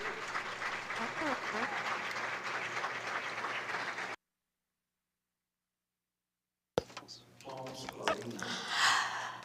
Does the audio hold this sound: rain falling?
no